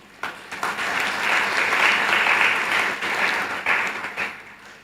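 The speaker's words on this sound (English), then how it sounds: "I think that deserves some applause." Applause swells from the audience at a college graduation ceremony, many hands clapping together in a full, sustained burst that rises quickly, holds and then tapers off.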